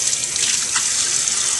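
Tap water runs steadily into a sink for hand washing, a loud, close, continuous splashing hiss with no speech.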